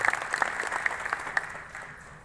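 An audience at a Shantikunj training gathering in Korba claps for a group of sisters who performed a song, a soft scattered round of applause heard from a distance that fades away over about two seconds.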